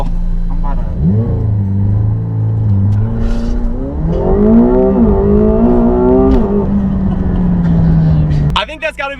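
A McLaren 720S launching hard with launch control, its engine note climbing through rising revs with a gear change midway, loud and close from inside the cabin, ending in an abrupt burst.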